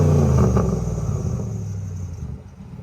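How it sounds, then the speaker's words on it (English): A Hemi-swapped truck engine revs hard through its exhaust, a loud, deep rumbling roar that peaks early and then slowly settles into a lower, steady idle-like drone. "I cannot believe that exhaust sounds that good. That's all Hemi right there."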